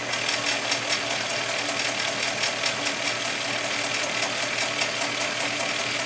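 A Sailrite Ultrafeed sewing machine driven by a WorkerB motor with the larger Monster 2 wheel, running at top speed with a steady, fast mechanical chatter that holds even and continuous throughout, close by and alone.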